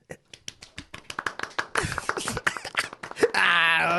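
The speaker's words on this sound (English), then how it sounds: "can we give him a round of applause for that?" A small group on a casual podcast gives a quick round of applause, scattered claps that grow into a burst, with whoops and vocal cheering over them.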